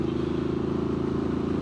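Steady low rumble of a Triumph Street Scrambler motorcycle engine running at a constant pace, a continuous even drone with fine rhythmic pulsing, heard alone without talk.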